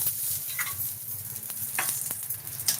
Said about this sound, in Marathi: त्याच्यावरती नेहमीप्रमाणे असा पकडा धपाटा आणि टाकायचा तव्यामध्ये.